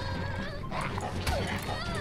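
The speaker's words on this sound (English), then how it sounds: "Come on, feed the dog." A dog whimpers and yips in The Walking Dead Season 2 video game, with soft whining cries and short yelps over a low ambient game backdrop.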